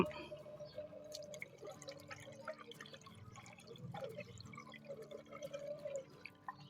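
Water is poured into the priming port of a faulty household water pump that fails to draw water, producing faint, close dripping and trickling with small splashes and a low background hum.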